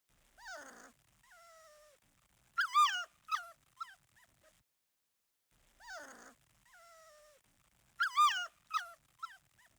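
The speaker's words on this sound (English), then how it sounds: "Pap the dog is quite small, but he can stand on top of a ball. He whines and he begs, up on two legs." A small cartoon dog in the JumpStart 1st Grade reading game whines and yips in two matching bursts: a falling whimper, a drawn-out whine, then a run of short high yelps, with silence between.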